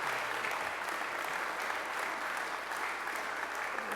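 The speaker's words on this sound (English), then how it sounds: "we just want to all have a round of applause for what they've done." A crowd claps for sponsors at a space challenge announcement, a dense and even burst of applause that holds steady throughout, moderately loud and without talk.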